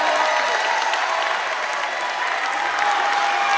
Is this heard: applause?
yes